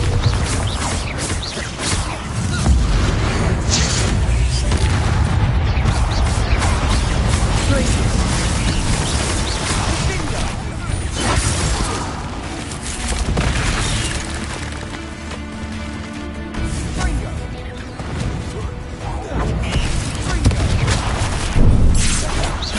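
Bombarda and Confringo spells detonate in Hogwarts Legacy combat, giving repeated booms and crashing impacts across a dense, loud, rumbling game soundscape with a brief rattling stretch.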